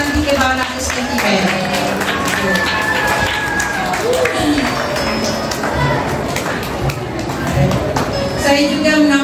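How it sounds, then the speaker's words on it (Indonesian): Audience at a Malaysian retirement ceremony applauding the DK Barat team, a sustained, fairly loud round of clapping in a hall, with a few crowd voices mixed in. "beri tepukan kepada pasukan DK Barat seketika"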